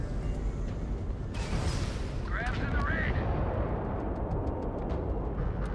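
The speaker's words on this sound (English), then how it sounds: "Rockets away!" Rocket missiles launch and explode in Starfield, a heavy, rumbling roar of blasts with sharp crackles on top, loud and sustained throughout, with a brief voice cutting in.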